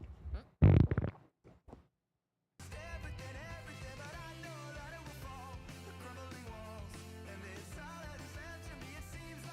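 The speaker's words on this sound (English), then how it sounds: "I can swallow and it sounds like a fart." A person swallows and it comes out like a fart: one short, loud, low burst, followed by quiet and then steady background music.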